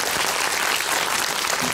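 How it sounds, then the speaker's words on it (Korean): An audience at a film screening applauds with dense, sustained clapping throughout, loud and steady, with no distinct voices. "큰 박수 한번 감사합니다"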